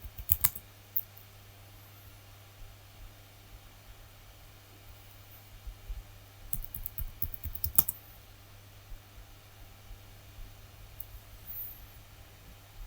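Keys on a computer keyboard are tapped in short bursts to enter a password, with scattered clicks and pauses over quiet background hiss.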